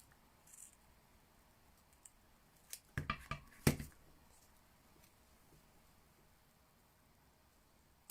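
Scissors cut ribbon at an angle for a stamped step card, a few quick close snips clustered together after a quiet stretch, crisp and brief with no talk.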